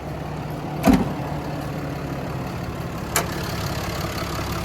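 A 6.7-liter Cummins diesel in a 2015 RAM 5500 4x4 utility truck idles at a steady low rumble, with two brief louder knocks, like a door or latch, breaking the even drone.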